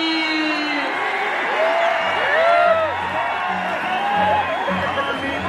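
A crowd at a kushti wrestling dangal claps, cheers and lets out rising whoops and whistles, a steady wash of noise with louder bursts throughout.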